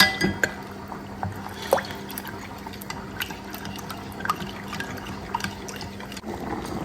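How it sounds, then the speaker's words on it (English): Cornmeal is mixed into water in a bowl: water sloshes and trickles, broken by occasional clinks and a few brief stirring splashes, close by and fairly quiet. "In another bowl, I'll go ahead and add some cornmeal to water."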